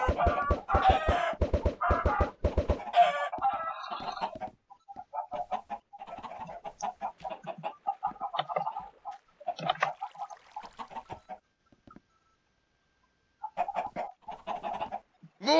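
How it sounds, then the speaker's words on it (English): Many video game chickens cluck, squawk and crow in a dense, overlapping racket, loudest at first, then thinning into scattered bursts of clucking separated by brief pauses. "What's with all the goddamn chickens?"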